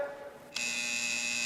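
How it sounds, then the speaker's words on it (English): An apartment door entry buzzer from a film scene sounds abruptly after a faint hum, a steady harsh electric drone that holds to the end, close and fairly loud, no voices. "Push the goddamn buzzer, will you?"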